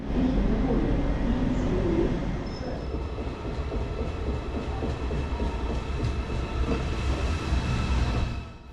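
An ICE 4 high-speed train rumbles at an underground station platform, a steady, moderately distant roar of wheels and rail noise with faint squeals, sustained throughout and easing slightly at the end.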